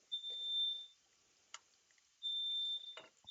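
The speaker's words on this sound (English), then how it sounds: "That's my smoke detector, Jeffro." A household smoke detector set off by smoke from a cast iron skillet gives two sharp, piercing high beeps, each about half a second long, with faint kitchen clatter between them.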